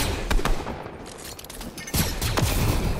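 Rapid automatic gunfire bursts in a Fortnite Trios match, loud, close rattling volleys that pause briefly midway and then resume with more shots.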